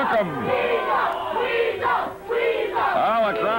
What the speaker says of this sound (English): They're hollering, weasel, weasel, weasel.